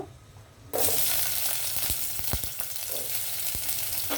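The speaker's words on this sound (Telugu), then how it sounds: "ఆయిల్ హీట్ అయిన తర్వాత ముందుగా నేను ఉల్లిపాయలు వేసేస్తాను" Onions hit hot oil, setting off a sudden loud, sustained sizzle that stays strong throughout, with a few light taps of stirring; near and clear, with no talking.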